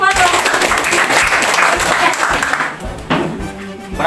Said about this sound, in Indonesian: Tepuk tangan dong buat